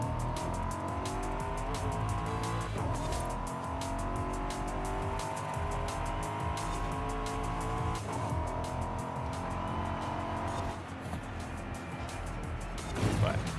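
A Chevrolet Corvette C8 in Forza Horizon 5 drives steadily with a loud, continuous engine drone and shifting revs, brief tire squeals, and a dip near the end before the engine swells again.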